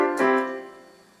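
A single piano note or chord from a Casio WK 7600 keyboard played through speakers, struck clearly and ringing out as it slowly fades over about a second.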